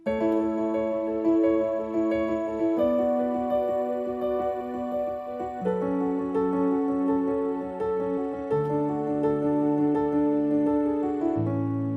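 A piano plays a repeating arpeggiated pattern, chords shifting every few seconds, steady and clear with no voices.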